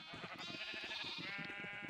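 Sheep bleating in Minecraft, a steady stream of overlapping bleats from spawned sheep, faint and continuous with no talk over them.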